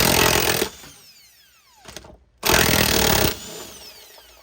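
A Milwaukee brushed cordless impact gun works on rusted cab mounts of a Ford F-350, firing two loud, harsh hammering bursts, each followed by a falling whine as the motor spins down and a brief quiet gap.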